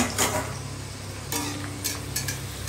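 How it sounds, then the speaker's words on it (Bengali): Luchi (puri) deep-frying in hot oil in a home kitchen, a steady close sizzle with a few sharp clinks of utensils against the pan. "এখানে লুচি ভাজা চলছে"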